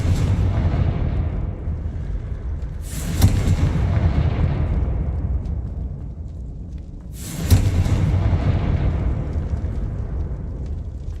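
Two heavy booming blasts from a Confringo fire spell in the video game Hogwarts Legacy, each a sudden loud burst with a long rumbling tail, spaced a few seconds apart over a steady low background rumble.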